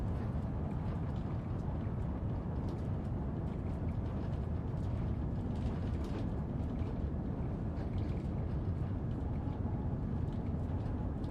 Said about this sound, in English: everything's rattling, which is quite a nice effect.